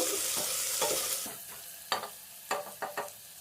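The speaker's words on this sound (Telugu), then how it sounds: "ఇలా బ్రౌన్ కలర్ వచ్చేంత వరకు ఉల్లిపాయలను వేయించుకోవాలి" Sliced onions and green chillies frying in a pot for chicken pulao, hissing bright and steady while a spoon stirs them with several sharp scrapes and knocks against the pot.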